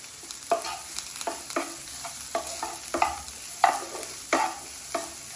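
Sautéed vegetables with garam masala, turmeric, salt and chili are stirred in a kadai: rhythmic scraping strokes about every half second over a soft, close sizzle.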